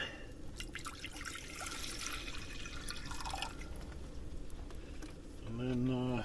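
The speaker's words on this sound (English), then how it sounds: "Bit of water in." Water poured from a container into a cooking pan on a camper van stove during a rainy squall: a steady, close trickle and splash lasting several seconds over background noise, with a brief tonal sound at the end.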